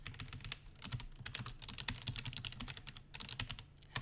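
Rapid typing on a computer keyboard while working on a coding puzzle, dense irregular key clicks and clacks close to the mic, continuous and fairly loud with no talk.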